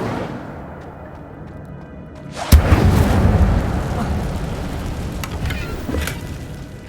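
Incendio fire spell cast in the Hogwarts Legacy video game on PS5: a sudden loud whooshing burst of flame that erupts and then roars on as a sustained crackling rush, with quiet ambience before it.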